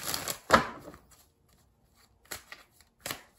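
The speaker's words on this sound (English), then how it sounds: "let's do three major shuffles and pull the energy for the Aquarius people." Tarot cards are shuffled in a few quick, crisp riffling bursts close by, separated by short quiet gaps.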